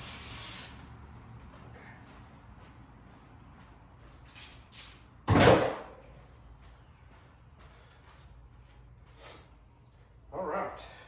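Brake cleaner sprayed onto the engine of a 1998 BMW Z3 1.9L near the water pump and thermostat housing, a sharp hissing burst lasting about half a second, with a shorter, softer spray later, over quiet workshop background.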